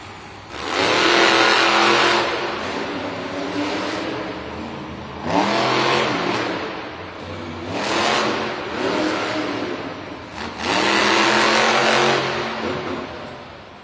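The monster truck Uproar roars through a racing run in an arena competition, its engine revving hard in repeated loud surges and dips across the stretch with no talk over it.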